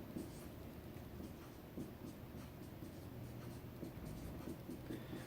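Continuous close writing on a surface while copying rows of a matrix for a system of three equations, a steady scratchy stroke sound over a constant background hiss.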